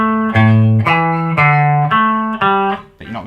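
Electric guitar notes ring out one after another in a steady sequence, played by two-handed tapping and hammer-ons without a pick, each sharply articulated and sustained, with a slightly effected tone.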